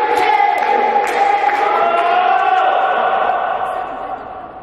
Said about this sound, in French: Ok, on applaudit.